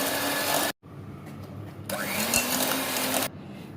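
An electric mixer beating butter and sugar for vanilla pastry batter: a loud motor whir that cuts out briefly, starts again with a rising pitch, then stops, close and alone.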